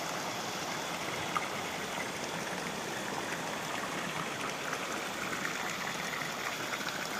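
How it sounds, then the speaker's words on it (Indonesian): The Brantas river flowing below, a steady, even rush of water heard faintly from a distance without pauses. "Soalnya di bawah itu aliran Sungai Berantas, lumayan itu."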